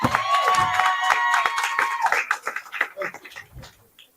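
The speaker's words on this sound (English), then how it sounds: "Let's give a round of applause." Audience applause and cheering in a hall at a dental event at the Javits Center, a dense burst of clapping that thins out into scattered claps and voices.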